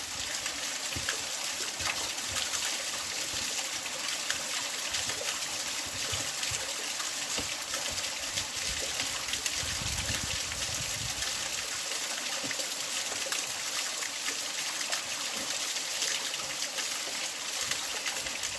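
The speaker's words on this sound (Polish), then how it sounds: "Ledwie pokonałem jeden wodospad, a oto już jest następny." Continuous rushing water from a waterfall in Wildboar Clough, a steady broadband roar with no voices, constant in level throughout.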